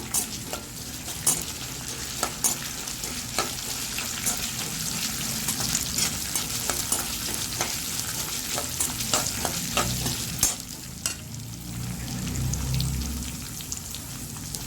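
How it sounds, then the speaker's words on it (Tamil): Coriander seeds, black pepper and cumin sauté in an oil pan for a homemade chicken masala gravy, giving a steady close sizzle with repeated scraping stirs and clicks throughout. "தனியா, மிளகு, ஜீரகத்தை இதை போட்டு வதக்கிட்டு இது கொஞ்சம் வறுபட்டதும்"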